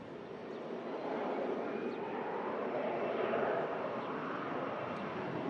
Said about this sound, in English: bizjet departs, another arrives in